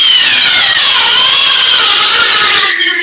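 A Skil power drill running in turbo mode, a loud, continuous high-pitched whine with a slowly shifting pitch, close up and with no talk, cutting off abruptly right at the end.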